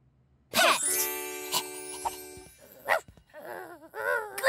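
A cartoon dog barks loudly and repeatedly in a children's reading show, sharp yips and bow-wows mixed with jingly musical tones, with no speech over them.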